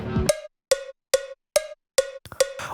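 A metronome-like click ticks at a steady pace in 3/4 time, a higher accented beat followed by lighter ones in a repeating three-count pattern, clear and close.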